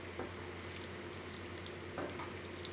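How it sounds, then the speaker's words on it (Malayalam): Baked, already cooked chicken being stirred into tikka masala gravy in a pan, a quiet steady simmer and sizzle with a couple of soft spoon scrapes, no voices. "ഇത് നന്നായി ഇളക്കി എല്ലാ ഭാഗത്തേക്കും മിക്സ് ചെയ്ത് കൊടുക്കുക."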